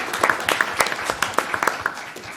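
Brief, scattered clapping rises from the audience at a Select Board meeting in Plymouth, Massachusetts, with a murmur of voices underneath.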